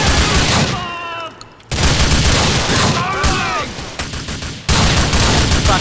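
Rapid bursts of video-game gunfire from a Glock pistol crackle through a chaotic firefight, loud and close, with shouting voices and brief lulls between volleys.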